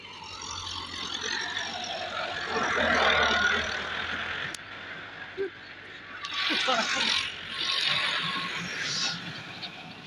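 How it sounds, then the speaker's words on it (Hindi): A tractor engine runs close by with a steady, mid-pitched mechanical rumble that swells and eases, and someone talks over it. "मेरे पीछे ट्रैक्टर लगाया"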